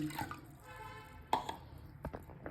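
About one and a half tumblers of water go into a pot for making ragi, heard close up as a faint trickle with scattered drips and small splashes.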